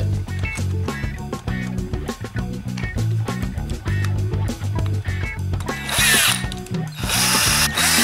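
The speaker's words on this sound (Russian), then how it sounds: "Ставим руль и наживляем болтики." Bolts are threaded in while a handlebar is fitted on a MAKE bicycle with 26-inch wheels, giving close, rapid ratcheting clicks and metallic rattles in bursts, louder near the end, with no talking.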